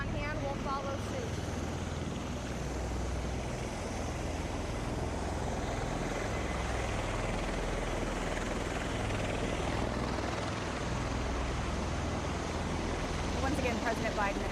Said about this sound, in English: Takes off. Secondary helicopter will follow.